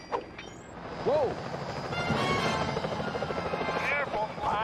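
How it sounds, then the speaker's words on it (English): Security helicopters in the game Sly 4: Thieves in Time, their rotors droning steadily under game sound effects and brief voices. "Careful, Sly. Those security choppers are bad news."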